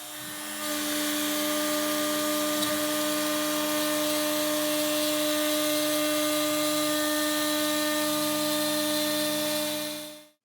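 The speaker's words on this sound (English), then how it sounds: "I'll attach the neck to my CNC machine and use that to route the truss rod slot." CNC machine routing a truss rod slot in a guitar neck, a steady high-pitched spindle whine with a constant cutting hiss that runs nearly unchanged for ten seconds before cutting off, close and alone.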